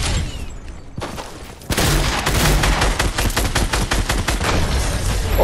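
Dense bursts of rapid video-game gunfire, loud and close, break out after a quieter opening and keep going as a sustained volley of overlapping shots with no talk.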